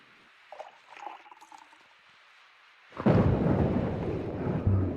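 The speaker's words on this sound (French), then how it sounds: "Il pleut si fort." Heavy rain and thunder break in suddenly after a quiet stretch with faint sounds, a loud rumbling crash followed by a dense, steady roar of downpour.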